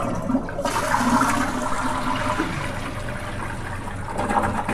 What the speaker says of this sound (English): Make sure it flushes and closes okay.